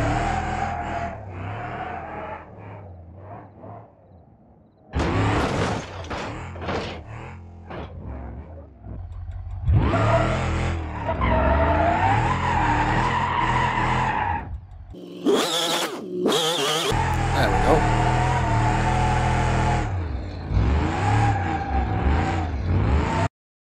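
A modified vehicle, rebuilt to behave like a motorcycle, screams and revs through bursts of acceleration in BeamNG, with sharp engine roars, brief cutouts and tire noise during skids, loud and close throughout.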